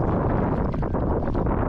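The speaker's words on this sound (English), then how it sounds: "You can see just sitting here how hard it's blowing." Strong wind blowing over open water during a kayak run, a loud continuous broadband rush and buffeting against the microphone with no clear breaks across the short stretch.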